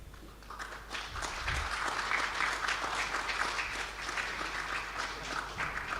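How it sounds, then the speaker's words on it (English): Steady, moderately distant applause from a seminar audience on low-carbon affordable housing, a sustained wash of many hands clapping for a keynote speaker after a placard presentation, with no talk over it. "Ladies and gentlemen, please give applause again to Mr. Yusing."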